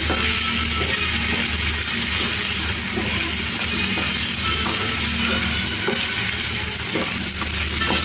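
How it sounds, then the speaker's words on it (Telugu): Bitter gourd and tomato curry is stirred in a pan after chili powder goes in, producing a loud continuous sizzle with steady scraping of the spoon through the thick mixture. "కారం వేసుకొని ఒకసారి కలిపేసుకోవాలి"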